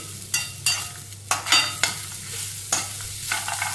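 Grated coconut and drumstick leaves being stirred in a hot pan: close, rhythmic scrapes of a spoon every half second or so over a continuous light sizzle.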